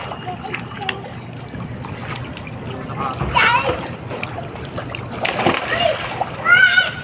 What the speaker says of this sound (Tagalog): Nako, talon ka ng talon dyan.